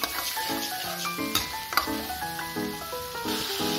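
Onion, tomato and spices such as coriander powder and black pepper sizzle in a pan for dal tadka while a spoon stirs them, giving a steady fizzing hiss broken by a few sharp scraping knocks.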